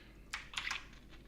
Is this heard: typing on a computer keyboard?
yes